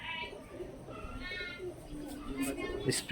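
Soft coos of Madras long-distance flying pigeons repeat in a low, throaty rhythm beneath steady background noise and some talking, with brief higher chirps near the end.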